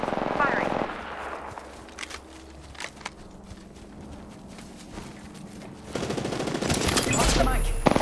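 Gunfire in Apex Legends sounds as loud rapid bursts at the start and again near the end, with quieter scattered shots and footsteps in between.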